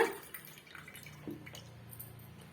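Amla (Indian gooseberry) juice drips and trickles softly through a strainer, quiet and close, with small irregular drops.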